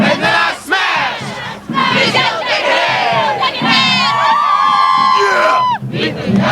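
A crowd of marching band members cheers and shouts loudly for the Terps, a dense burst of massed voices that holds almost without pause, with whoops and high yells rising over the din.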